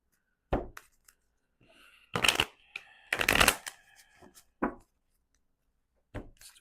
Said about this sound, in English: Cards do not want to mesh.